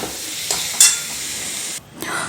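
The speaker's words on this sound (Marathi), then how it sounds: "आणि आता आपण हे थोडंसं मिक्स करून घेऊया आणि गॅस बंद करूया" A spoon stirs spicy green brinjal curry with freshly added coriander in a pan on the stove, giving soft scraping strokes over a gentle sizzle, close and brief.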